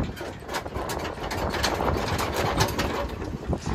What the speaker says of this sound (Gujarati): હવે આ એન્જિને ચાલુ કરે છે